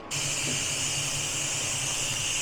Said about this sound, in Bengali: 1 মিনিটের মতো ভালো করে ফুটিয়ে নেবো, একদম রেডি হয়ে যাবে ঘুগনি।